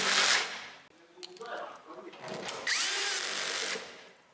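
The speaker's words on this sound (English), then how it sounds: "Tighten 8 screws to complete fixation." A power drill drives screws into a universal integrated bed rack on a pickup truck, with short whirring bursts rising and falling close by, separated by brief pauses and light handling noise.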